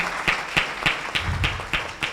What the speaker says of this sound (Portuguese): eu queria pedir uma salva de palmas para a organização por esta iniciativa